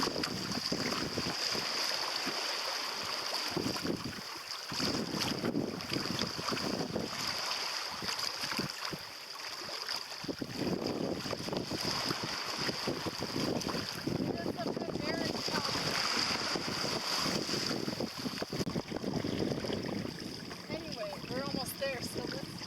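A sailboat moves under steady wind on an Everglades Challenge run, a constant broadband rush of wind and water noise buffeting the microphone throughout, with voices talking at moments.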